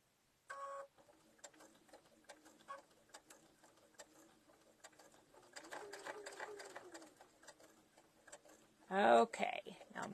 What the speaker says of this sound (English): now I'm going to do a back stitch real quick